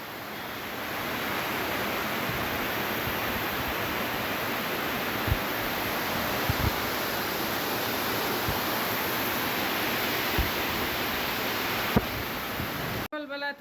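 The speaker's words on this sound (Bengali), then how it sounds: "অনেক বৃষ্টি পড়তেছে সকালবেলা।" Heavy morning rain falls steadily in a dense, continuous wash with a few faint thumps, ending abruptly.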